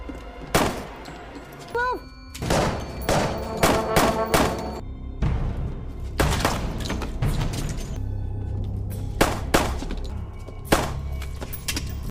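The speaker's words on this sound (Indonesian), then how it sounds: "Loren pun berhasil menembak semua pengikut Paimons." Loud bursts of video game gunfire, rapid volleys and single shots interspersed with thuds and mechanical clatter, with dense, echoing noise throughout.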